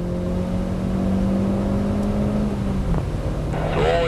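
An Opel Corsa OPC accelerates on the Nürburgring, heard from inside as a loud, steady engine drone with rising tonal whine, close and continuous, with no talking.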